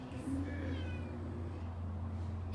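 A pet cat meows a few times in the background, faint and distant, over a steady low indoor hum with no talk.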